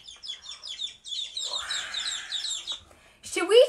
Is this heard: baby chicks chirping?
yes